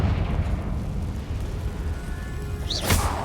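A Confringo blasting curse explodes in Hogwarts Legacy: a rumbling, roaring blast sits over a low continuous boom, and a bright crackling burst flares near the end.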